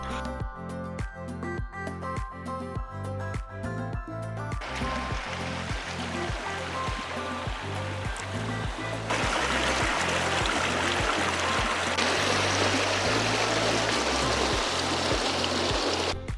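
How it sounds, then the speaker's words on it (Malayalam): A small mountain stream flows with a steady rushing wash of water, heard continuously under a rhythmic musical beat that grows louder midway. "താഴെ ഇറങ്ങി ചെല്ലുമ്പോൾ ഇതുപോലൊരു ചെറിയൊരു അരുവി കാണാം"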